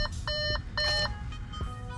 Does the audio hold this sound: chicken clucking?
no